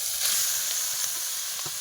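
Bottle gourd fries in oil with onion and garlic over a stove, giving an even, close hiss of sizzling with faint crackles and no voices.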